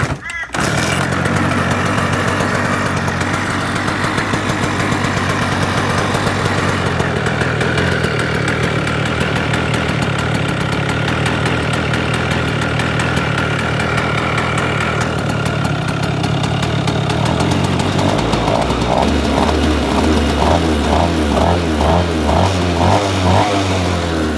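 A Honda-powered shifter kart engine is kick-started and settles into a loud, close, steady idle, then shifts to an uneven, pulsing running rhythm near the end.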